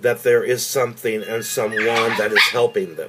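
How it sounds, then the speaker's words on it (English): Household dogs barking in the background, short yips and barks mixed closely with a person talking over them. "please excuse my dogs that were barking in the background."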